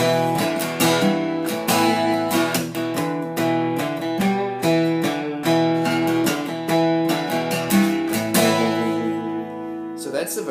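An acoustic guitar in open tuning strummed steadily in a rhythmic pattern, bright ringing chords with sharp strokes, close and loud with no voices.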